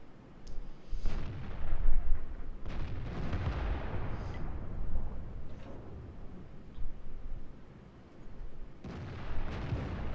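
Tank cannon fire in World of Tanks: several heavy booming shots, one near the start, another around two seconds in and a final one near the end, each trailing into long rumbling decay.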